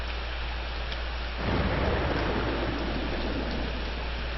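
Steady rain pours throughout in the horror video game Corpse Party, with a low rumble of thunder rolling in at about the midpoint and swelling the wash of noise; no voices.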